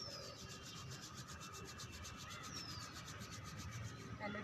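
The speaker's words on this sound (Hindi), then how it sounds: "दोनों हाथों को रब करेंगे।" Two palms rubbed briskly together, a steady close friction rasp that runs without pause for a few seconds and has no talking.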